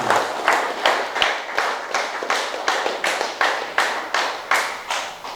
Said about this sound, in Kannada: ಗುರುಗಳಿಗೆ ಚಪ್ಪಾಳೆ ಹೊಡೆಯೋದರ ಮೂಲಕ